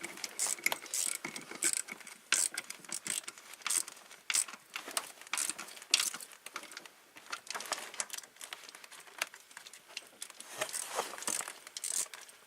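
A small ratchet with a thumb wheel clicks in quick repeated bursts while an alternator is swapped on a Chevy Venture, Pontiac Montana or Oldsmobile minivan, the close, crisp pawl ticks coming in uneven runs with short pauses between.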